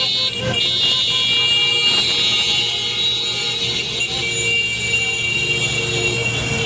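Continuous car horns blaring together over road and traffic noise, loud and sustained throughout, motorists honking in solidarity.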